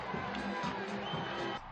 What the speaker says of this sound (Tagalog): dumagundong ang hiyawan ng fans na excited manood ng live ng paghaharap nila ni Alicia Parks